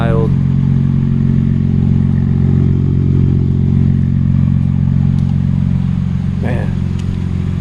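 A BMW G80 M3 with an aftermarket exhaust idles and revs up, its deep burbling drone holding close and loud for several seconds, with a brief high squeak toward the end.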